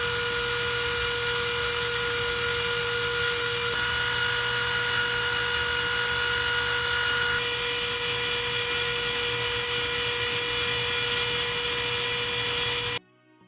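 A rotary tool fitted with an engraving bit carves out wooden stars, giving a loud, steady, high-pitched whine that runs nearly unbroken and then cuts off abruptly at the end.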